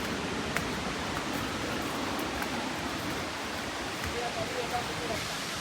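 Steady roar of the Bomburu Ella waterfall in Sri Lanka, a constant broadband rush of falling water heard up close, with faint speech under it.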